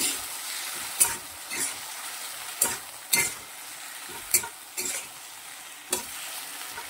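Chopped capsicum is mixed into soft potatoes cooked in oil in a pan, with about eight distinct spoon scrapes and knocks spaced unevenly over a low sizzle, close up and alone.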